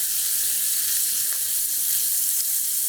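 Steak au poivre fries in clarified butter in a tilted pan, giving a close, bright, steady sizzle that hisses evenly throughout with no voices.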